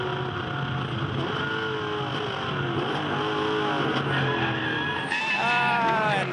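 Race car engines revving hard on a circuit during a televised race, a loud continuous roar with rising and falling pitch as cars charge past, a commentator's voice faintly under the engine noise.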